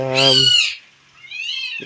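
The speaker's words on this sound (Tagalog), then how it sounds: "pusa nag-aaway" A loud, drawn-out yowl rises and falls, then a second higher wail follows, like cats screeching at each other nearby.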